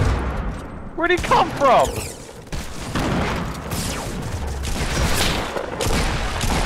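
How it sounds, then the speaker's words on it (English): A grenade explodes in Fortnite gameplay with a loud burst followed by rumbling gunfire-like crackle, while players talk excitedly over the action. "That sounds like a grenade."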